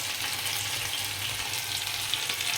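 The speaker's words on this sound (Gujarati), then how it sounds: "વઘાર કરવામાં આપણે જે મરચી અને થોડાક એવા તલ નાખ્યા છે એનો આપણે વઘાર કરશું" Green chillies and sesame seeds tempering in hot oil for a home dosa meal, a steady bright sizzle and crackle running unbroken and close, with no talk.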